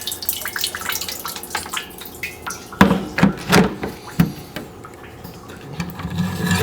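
Water trickles and splashes into an RO brewing water container fitted with a float valve, irregular drips and gurgles close by with a few louder splashes.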